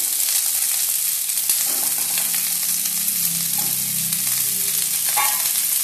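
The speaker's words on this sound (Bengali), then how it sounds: "এটা দিয়েও আমি নাড়তে থাকবো হাই ফ্লেমে" Cubed capsicum stir-fried over a high flame for chicken Manchurian, giving a steady, loud sizzle of oil throughout with occasional scrapes and clinks of the spatula, no voices.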